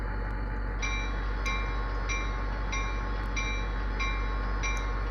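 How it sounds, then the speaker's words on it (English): Locomotive bell of a P42 Genesis in a train simulator game, heard muffled from inside the cab as an even, repeating ding roughly every two-thirds of a second over a steady low engine rumble, with no talk. "Very nice sounding bell, really muffled inside the cab."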